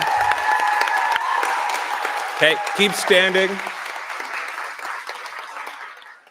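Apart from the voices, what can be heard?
audience applause for award winners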